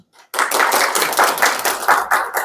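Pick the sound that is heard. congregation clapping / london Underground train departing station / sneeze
congregation clapping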